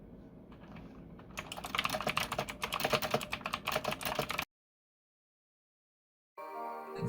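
Rapid clattering keystrokes on an ONN RGB gaming keyboard, close and crisp, run for about three seconds before cutting to silence, then a brief different sound at the end.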